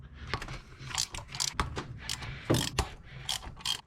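A hand ratchet clicks in quick, close bursts while loosening the water pump pulley bolts on a 1996–2004 SN95 Ford Mustang GT, with metallic ratcheting and brief clanks.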